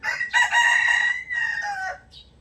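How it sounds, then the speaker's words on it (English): A rooster crows loudly and close by at a house where chickens and ducks are kept, one long drawn-out call that trails off at the end. "there's a lot of roosters, chickens, ducks, birds, trees,"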